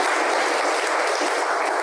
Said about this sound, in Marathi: म्हणून आपण पहिल्यांदा त्यांचं टाळ्या वाजून अभिनंदन केलं पाहिजे.